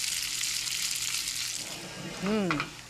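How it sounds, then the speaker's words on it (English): Pork browning gently in a skillet over medium-low heat gives off a steady, close sizzle and hiss, with a short voice-like sound rising over it near the end. "turn the heat down to medium-low and cook the pork gently till it's nice and browned on the outside"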